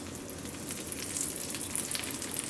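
Sage leaves frying in brown butter, a soft, close, steady crackling sizzle with fine popping that grows slightly busier; no talking.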